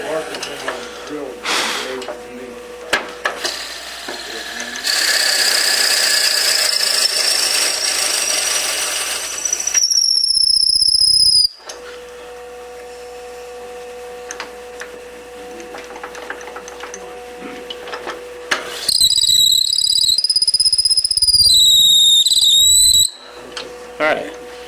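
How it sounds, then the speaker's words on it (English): Power drill boring holes into a shop-made wooden screwdriver handle in a workshop, two sustained high whining bursts of a few seconds each, separated by quieter shop noise, with a person talking in between. "that's all the drilling we got to do"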